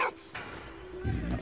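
A dog in the World War I video game Soldat Inconnu gives a few short, yipping barks and whimpers close up, mixed with game sound and a voice.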